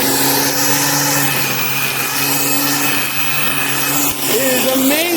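A Black+Decker 3-in-1 corded electric mower, a 6.5-amp, 12-inch trimmer and edger converted to mow, cuts grass with a steady, close motor whine and broadband rasp. The whir rises in pitch near the end.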